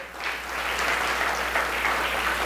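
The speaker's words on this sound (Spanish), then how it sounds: "Démosle un aplauso al Señor Jesucristo." A church congregation breaks into loud, continuous applause during a sermon on spiritual gifts, a thick, even roar of many hands clapping over a low steady hum.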